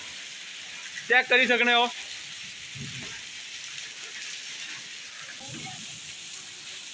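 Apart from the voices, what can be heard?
heavy rain with hail falling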